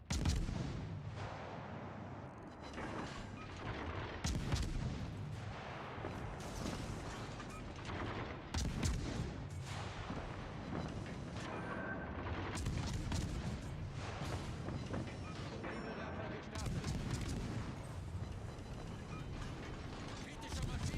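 Naval guns fire in the World of Warships Legends game, with dense, repeated booming salvos and mechanical rumble filling a loud, continuous battle mix; game voice lines and a player's talk are mixed in.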